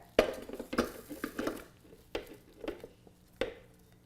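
Ingredients being mixed by hand in a bowl, with a few sharp clinks of a utensil against the bowl and softer scraping and stirring between them, close and fairly quiet, no talk.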